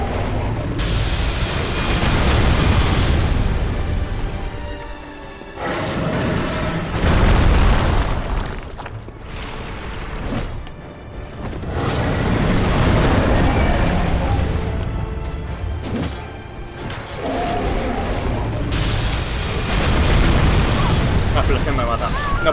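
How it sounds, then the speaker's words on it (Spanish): Repeated deep booming explosions from the video game Bloodborne roll through a long stretch of dense, loud game noise, rising and falling in heavy bursts. "La explosión me mata."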